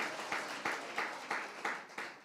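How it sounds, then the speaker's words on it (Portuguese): A church congregation claps for Jesus in a steady, regular rhythm, about six evenly spaced beats of many hands together, heard at a distance and fairly quiet. "Quer aplaudir, aplaude com força. Aplaude Jesus com força."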